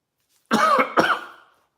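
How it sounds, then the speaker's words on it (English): Two close, fairly loud coughs in quick succession from an adult man whose family recently had COVID, the second trailing off into a rough exhale, alone with no talk. "I do have this cough though that"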